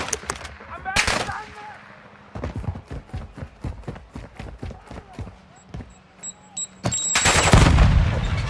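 Gunfire rings out in Call of Duty DMZ during a sniper battle: a rapid series of sharp shots in steady succession, some louder bursts, with players talking over it.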